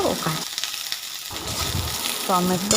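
Tomato and onion paste fry in oil in a wok, sizzling steadily with stirring scrapes while a voice talks over the cooking.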